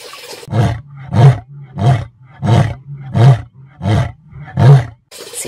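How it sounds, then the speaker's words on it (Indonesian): A toy lion roars seven times in a steady rhythm, each deep, rumbling call loud and close, separated by short pauses. "Ternyata seekor singa."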